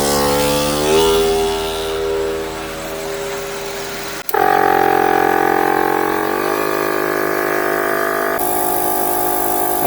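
A Gobege 12V portable air compressor tire inflator starts up with a sudden loud, steady motorized drone and tonal hum that shifts pitch as it keeps running.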